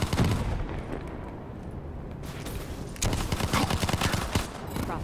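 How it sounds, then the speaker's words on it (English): Shotgun fire in the video game Call of Duty Black Ops III, rapid bursts of gunshots and booms clustered at the start and again in the second half, loud and dense over game ambience. "All these people with shotguns just shooting me."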